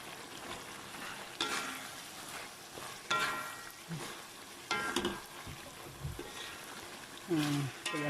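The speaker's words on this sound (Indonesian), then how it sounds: "Last sekali kita masukkan kentang kita yang saya telah goreng." Previously fried potatoes tipped into a pan of sizzling black pepper beef, a steady frying hiss punctuated by several loud bursts of sizzle and scraping stirs as the pieces hit the hot pan.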